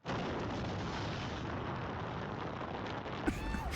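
A dense, continuous roar of rumbling video game explosions throwing cars and debris fills the clip before cutting to a brief different scene.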